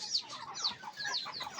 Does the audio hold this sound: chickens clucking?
yes